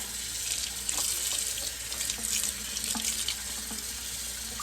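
Tap running hot water steadily into a sink to soak a towel for covering no-knead bread dough, a close, continuous splashing flow with no talking.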